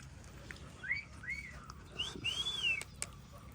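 A pet bird at an animal sanctuary mimics a person's whistle, giving several clear rising-and-falling whistled notes in a short phrase, close and fairly soft against outdoor background noise.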